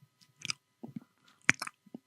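A man imitates chewing with his voice, making a handful of wet, smacking, crunchy mouth noises in an uneven rhythm, close and alone against silence.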